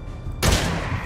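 Shotgun blast in the survival zombie game 7 Days To Die with the Romero mod, a single loud, close boom that cuts in sharply and rings out in a long, noisy tail.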